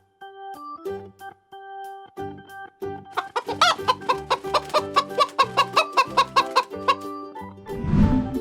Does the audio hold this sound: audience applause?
no